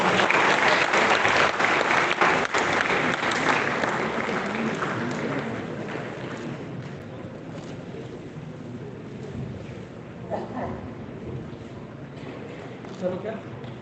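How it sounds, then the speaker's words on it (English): An audience at a seminar session of the QCFI Annual Convention 2022 breaks into a big round of applause that is loud at first, then gradually thins and fades, with a few scattered claps lingering near the end. "A big round of applause."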